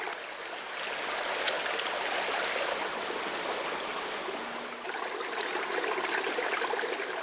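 A clear stream in front of a rural house yard flows steadily, a continuous gentle rush of water with no voices.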